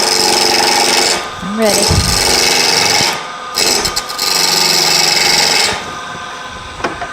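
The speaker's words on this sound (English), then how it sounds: "And just go in with a gouge." A turning gouge cuts into wood spinning on a lathe in a woodworking shop, making a loud, rough, sustained scraping roar in long bursts separated by short pauses. Someone speaks briefly.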